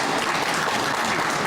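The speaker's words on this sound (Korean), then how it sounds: "큰 박수 한번 부탁드리겠습니다." Steady audience applause at the opening of a regional art exchange exhibition at an art forum in Cheonan, Korea, loud and dense throughout with no break.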